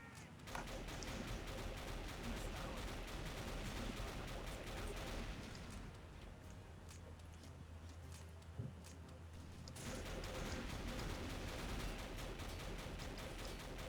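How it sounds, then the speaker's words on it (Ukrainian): Dense gunfire crackles and thuds across a battlefield in the war game Face of War, sustained almost without a break and easing slightly for a few seconds midway. "Щось зарано почав стріляти."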